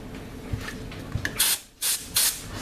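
Canned air is blown around the spark plug area of a Harley-Davidson Softail Deluxe motorcycle, giving three short, close, sharp hissing bursts after some quiet handling noises.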